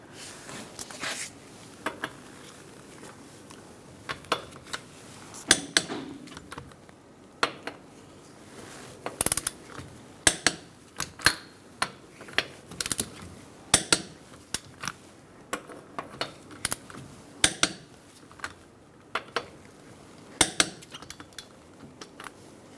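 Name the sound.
torquing lug nuts with a 21mm socket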